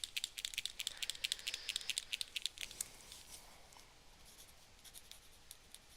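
A gel pen scratches across the paper of an art journal, making quick, faint, close strokes in a rapid series that fade into quieter, sparser scratching, with no voices.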